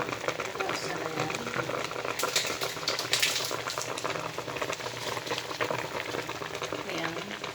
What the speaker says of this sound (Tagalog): Tapos takipan muna natin habang kumukulo siya para matunaw yung sugar niya